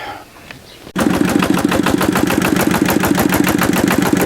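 A Zubr walk-behind tractor engine, driving a generator, starts after a quiet moment and settles into a loud, fast, steady chugging beat close to the microphone.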